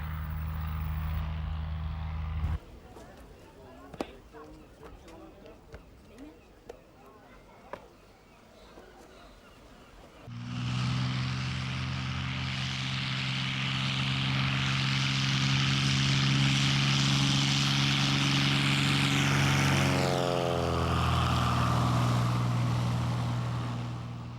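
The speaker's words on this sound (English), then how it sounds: "an aircraft prepares to take off from a nearby airfield, ready to play its part in the day's activities" A propeller aircraft starts up and takes off from an airfield near the Cornish seafront, its engine roar loud and steady for the second half after quieter clicks and handling noises, with a shifting engine tone near the end.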